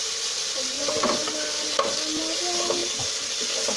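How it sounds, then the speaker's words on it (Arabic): Chopped onion fries in a spoonful of oil with a pinch of salt, giving a steady close sizzle with light stirring clinks and scrapes throughout, no voices. "معلقه الزيت غنزيد عليها هذا الكبان ديال البصله"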